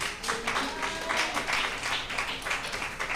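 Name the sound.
church congregation applause for the praise team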